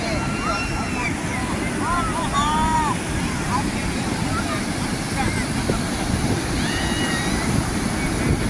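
Ocean surf at a beach in Puri rolls in as a steady, loud wash of wind-buffeted waves, with people's voices chattering over it throughout.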